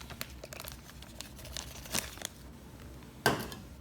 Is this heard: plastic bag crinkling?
yes